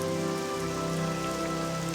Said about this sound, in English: Yeah, we've been getting some rain all night, I think.